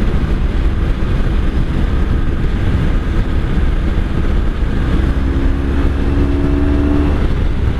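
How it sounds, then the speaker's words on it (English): A 1983 Honda Sabre VF750S motorcycle with a stock exhaust, heard while riding, gives a steady, moderately loud engine drone mixed with wind rush that runs unbroken for the whole stretch, with no talking. "It's not an obnoxiously loud bike."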